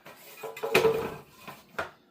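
A large metal oven tray is set down on a kitchen counter with a sharp clatter, followed by a few lighter knocks and scrapes nearby, with no talking.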